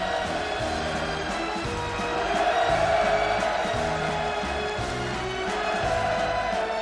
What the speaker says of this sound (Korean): 공연이 끝나자 우렁찬 만세 환호가 터져 올랐습니다